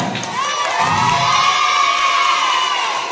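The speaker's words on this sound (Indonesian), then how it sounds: "Kita sambut dengan tepukan tangan yang sangat meriah dari kelas 6." Schoolchildren at an Indonesian primary school closing ceremony cheer and shout together in a loud, high-pitched burst of crowd noise, with whoops rising and swelling throughout.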